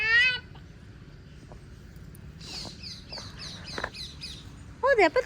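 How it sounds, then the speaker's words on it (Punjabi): Bright, warbling parrot calls: a squawky burst at the start, a run of repeated chirps in the middle, and a sharp cluster of calls near the end, over a low background hum. "ਤੋਤਾ ਬੋਲਦਾ"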